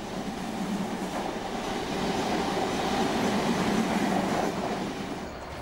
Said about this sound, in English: This Spanish-built General Motors Class 67 is passing through Ilford on its way to the depot